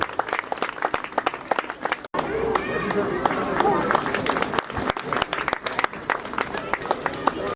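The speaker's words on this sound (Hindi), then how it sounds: "जोरदार तालियों से स्वागत करें" A crowd at a political welcome gathering in Nawada, Bihar, applauds an arriving guest, dense loud clapping sustained throughout, briefly cut near two seconds and resuming, with voices mixed in.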